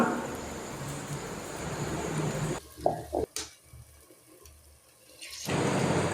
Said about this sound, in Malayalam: കറിയിൽ അരപ്പ് ചേർത്ത് ആവശ്യത്തിന് വെള്ളവും ചേർത്ത് കൊടുത്ത് നന്നായിട്ട് ഇളക്കിയെടുക്കാം